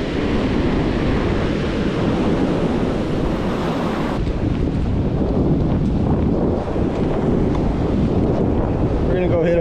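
Strong wind buffets the microphone at a Southern California beach during surf fishing, with surf roaring steadily beneath in a continuous loud rush.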